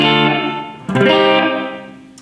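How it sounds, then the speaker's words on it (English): Loud sustained guitar chords through a Strymon Blue Sky plate reverb with pre-delay at minimum, ringing out with a lush, shimmering tail that swells and slowly fades after a second strum. "here is the plate reverb effect"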